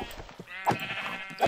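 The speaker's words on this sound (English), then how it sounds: "Oh, there's a sheep right there." A sheep in the game Minecraft bleats twice, once in the middle and again near the end. The calls are clear and nasal over quieter game sounds and faint murmurs.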